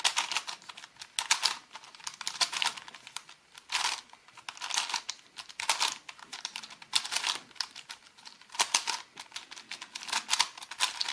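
A Skewb twisty puzzle being turned by hand: repeated plastic clicking and rattling turns in an irregular rhythm, close and crisp, with no talking.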